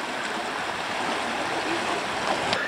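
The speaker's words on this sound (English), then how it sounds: "Water's really moving." Fast-moving stream water at Ha Ha Tonka State Park, Missouri, rushing in a steady, dense hiss that fills the whole clip, fairly close and even, with no voices.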